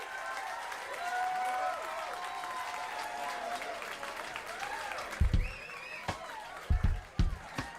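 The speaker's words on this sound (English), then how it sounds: "A very rhythmic crowd." A crowd applauds in a steady rhythm, a continuous wash of clapping that builds into sharper, louder bursts toward the end, with voices mixed in.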